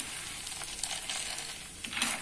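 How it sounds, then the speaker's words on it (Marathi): Soft, steady sizzling of peanuts frying in oil, with faint crackles and no voices. "हे बघा शेंगदाणे आता सातळून घेते तेलामध्ये"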